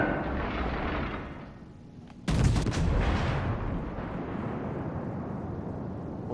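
Artillery shots land short in a naval combat game with Orion ships, a sudden loud impact burst partway through that follows a steady roaring background and fades into a lingering rumble.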